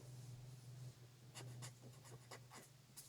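A pen scratches across paper in a series of short quick strokes, faint and close, over a low steady hum.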